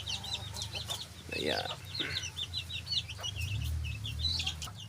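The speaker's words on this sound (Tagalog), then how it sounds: "Meron din tayong manok dito." Chickens clucking around a rural Philippine province yard, a run of short chirpy clucks near the listener with light outdoor background, someone speaking briefly over them.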